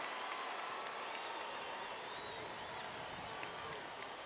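Stadium crowd cheering and clapping after a converted penalty in a Cincinnati–Nashville soccer shootout, a sustained distant roar of many voices and applause at low volume.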